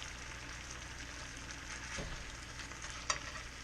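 Tuna steaks sizzling in a frying pan give a steady, soft crackling hiss with a brief clink of a utensil near the end, no voices.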